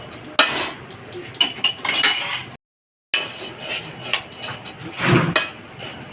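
Roasted rice scraped and tipped from one vessel into another, with metallic clinks and scraping of a spoon against the pan in close, irregular bursts and a brief silent gap.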